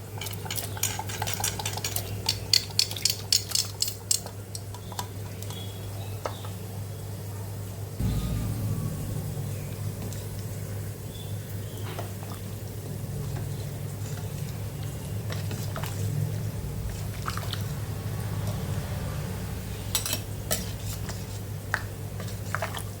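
Cooked dal and mutton bones go into a pot of dalcha, followed by a spoon stirring and scraping against the metal pot. Quick clattering scrapes come first, then a steadier simmer, with no talking.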